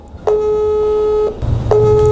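Phone line tone during an unanswered call: two long electronic beeps separated by a pause, clear and close, with faint background noise.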